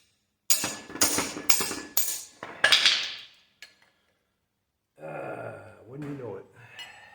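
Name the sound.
offset wrench breaking loose 16 millimeter bolts on excavator track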